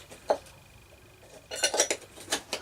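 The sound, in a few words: lid being put on a pot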